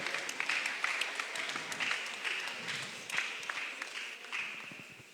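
Light applause from a small group in a sports hall, scattered claps rising and falling at a moderate, fairly distant level.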